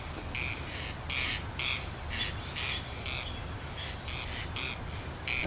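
A male corncrake calls repeatedly in a rasping, rhythmic series of pulsed bursts, fairly loud and close, over a steady background of insect-like chirps and other bird sounds.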